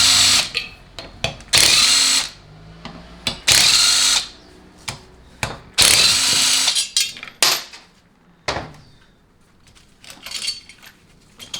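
Power tool spinning off half-inch bolts from a TH350 transmission, several loud short whirring bursts separated by pauses, with metallic clinks of bolts and parts between them and no talking.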